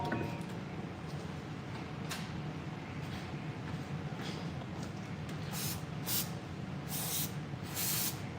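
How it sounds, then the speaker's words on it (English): Brake cleaner sprayed onto the brakes of a Tesla Model 3 during a pad change, heard as several short, hissing bursts near the end against a quiet garage background. "we're going to clean this all out with some brake clean here in a second"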